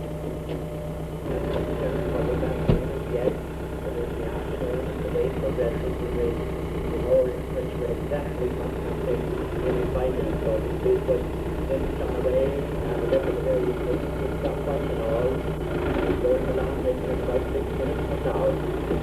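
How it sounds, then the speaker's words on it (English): A tractor engine runs steadily at a farm show field day while a crew hitches it to a silage harvester, a continuous low idling rumble with a public address voice talking over it throughout. "Dermot and Larry working furiously on attaching the tractor to the silage harvester"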